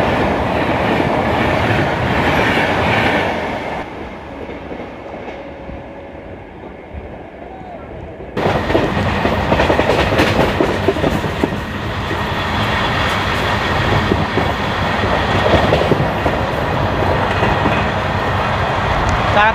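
An LHB-coach Kanchanjungha Express on the Sealdah–Sabroom route runs at speed, its loud steady rumble and rattle filling the air, softening for a few seconds before surging back to full roar.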